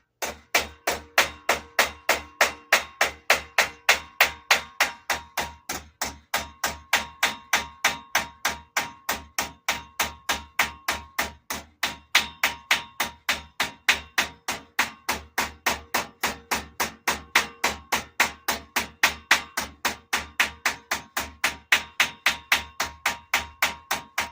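Steady, rapid hammer blows ring on the ridge of a metal car hood, dozens of sharp close strikes in an even rhythm that continues without pause.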